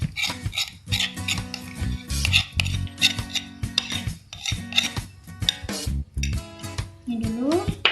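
Nastar cookie dough being mixed with sweetened condensed milk in a bowl, with repeated close scraping and clinking of a utensil against the bowl in irregular bursts, no talk.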